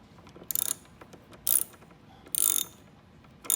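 Ratchet wrench loosening bolts to remove the seat of a Honda DN-01 motorcycle, three short bursts of rapid clicking separated by pauses, close and clear with no talk.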